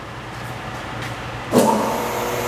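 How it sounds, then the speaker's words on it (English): The grinding wheel of an Okamoto OMG-12.40U universal cylindrical grinder spinning up, a steady quiet machine hum with a soft thump and rise partway through, then settling into a low continuous whir. "He's turned the grinding wheel on and it is quiet. You can see it running now."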